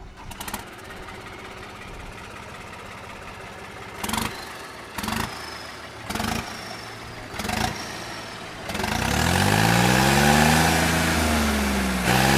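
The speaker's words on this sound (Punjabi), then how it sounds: "ਤੁਹਾਨੂੰ ਇਹਦੀ ਸੀਟੀ ਵੱਜਦੀ ਦਿਖਾਉਣੀ ਇਹ ਟਰੈਕਟਰ ਦੀ" A 2015 Ford 7000 tractor engine runs at a steady low idle, with several brief revs, then climbs into a loud sustained rev with a rising turbo whistle, heard close and alone.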